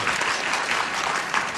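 Studio audience on a game show applauding, dense and steady clapping filling the room at close range, sustained throughout without a break.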